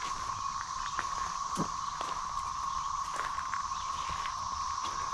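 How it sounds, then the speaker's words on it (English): Cicadas buzz outdoors in Alabama with a steady, continuous high drone. Faint scattered clicks and taps sound in the background. "I know the cicadas are blooming."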